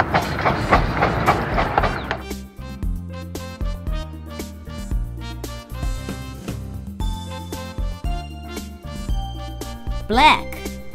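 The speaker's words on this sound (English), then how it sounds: "Locomotive." Locomotive train passing, a rhythmic rumble with clicking rail noise under playful kids' music, ending in a brief high whistle-like tone near the end.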